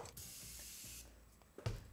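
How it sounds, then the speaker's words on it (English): Makeup setting spray sprayed from a ten-year-expired bottle: a short spritz gives a bright airy hiss for about a second, followed by a faint second burst and a soft knock near the end. "I'm gonna give it a little spritz of some setting spray"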